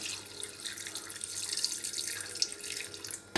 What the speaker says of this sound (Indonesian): Kita tuang air untuk merebusnya.